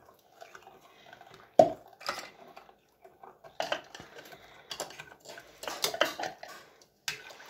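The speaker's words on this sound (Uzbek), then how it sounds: "Bu şaletde bir aralashtiramiz." A utensil stirs and clinks against a bowl while mixing homemade lemonade ingredients, with irregular scraping bursts and one loud knock near the start, close and uneven.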